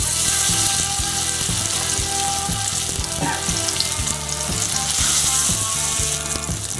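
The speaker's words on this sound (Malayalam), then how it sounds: "വെളിച്ചെണ്ണ ചൂടാവാൻ തുടങ്ങുന്ന സമയത്ത് പെരട്ടി വച്ചിരിക്കുന്ന മീന് ഇട്ട് കൊടുക്കുകയാണ്" Pearl spot fish (karimeen) frying in hot coconut oil, giving a loud, steady, close sizzle with crackling pops and occasional faint clinks, no voices.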